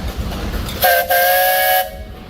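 At a steam engine show, a steam traction engine gives one loud, close whistle blast lasting about a second, with a brief break partway through, over an outdoor background.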